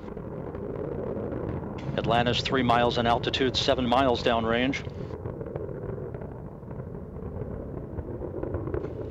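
Space Shuttle Atlantis's three liquid-fuel main engines roar as a broad, steady rumble during the STS-122 launch, heard from a distance beneath a loud announcer's voice.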